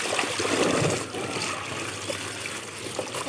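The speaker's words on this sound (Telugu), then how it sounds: "మళ్ళీ నేను ఒకసారి ఇందులో ఈ చీరని పెడుతున్నా వాటర్లో" A saree lowered into a tub of plain water after a fabric-softener rinse, with sloshing and trickling splashes up close, louder at first, then settling into gentle dribbling.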